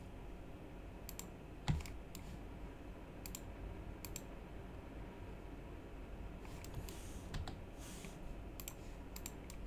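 A computer keyboard gives a handful of scattered, faint key presses over a quiet hiss of room noise, with no voices.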